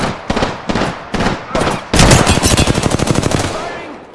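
Machine gun fire in Apex Legends: a few spaced single shots give way to a loud, rapid sustained burst lasting about two seconds that then trails off, all close and dominant.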